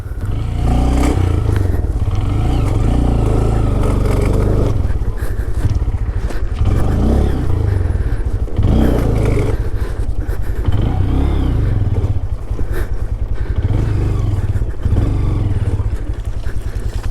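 A Honda Grom motorcycle rides on stock ball tyres, its engine droning loud and steady throughout with rumbling low end and occasional surges and clatter, with no voices.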